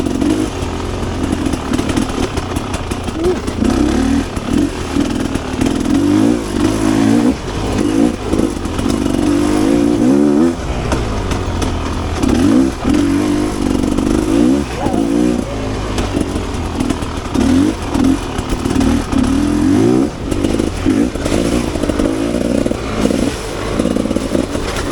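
A Rieju Ranger 300 dirt bike fitted with an FMF Gnarly exhaust revs hard and close, its engine note rising and falling in repeated surges of throttle with a raspy two-stroke buzz, loud and alone.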